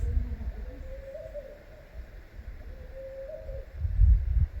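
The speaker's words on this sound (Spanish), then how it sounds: "nos encontramos también con un sonido así como pareciera un búho así, y con las mismas rocas se genera como un eco" Soft owl-like hoots echoing off the rocks of Egypt's Valley of the Kings, two drawn-out calls at moderate distance over faint wind and low rumble, with no talk.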